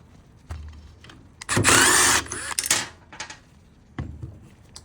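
A power tool on a 2009 Mercedes C63 AMG during a steering lock replacement, spinning off a 13mm bolt: one loud whirring burst of a little over a second, with short clicks and knocks before and after.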